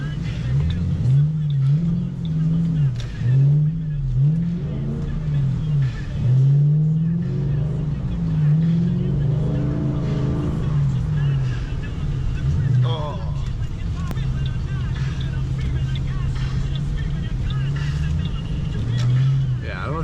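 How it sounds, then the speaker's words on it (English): A Ford Mustang GT's engine drones and revs steadily while the car drifts sideways down a snowy road, a loud continuous rumble rising and falling under a voice talking throughout. "we were literally driving down this road sideways, just drifting"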